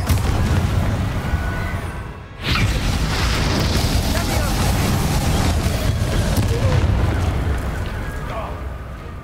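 Spell explosions in Hogwarts Legacy boom and rumble almost continuously, loud and dense, with a brief break early on and a voice calling out over the blasts.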